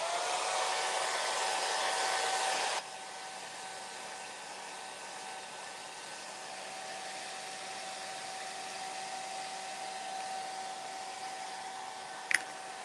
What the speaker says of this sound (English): let's blow dry everything and then we'll bust our paint pen out